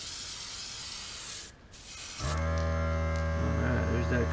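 An airbrush sprays paint for a crawdad pattern while its compressor starts partway through and runs on with a steady, loud mechanical hum under the hiss.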